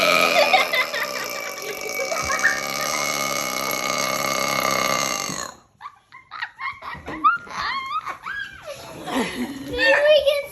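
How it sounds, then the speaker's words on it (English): A child gives a long, drawn-out burp, loud and close for several seconds, then chatters and talks in a high voice with bursts of vocalizing. "Now do a burp talk."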